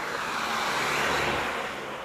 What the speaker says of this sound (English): Of course, cars always come whenever I'm filming,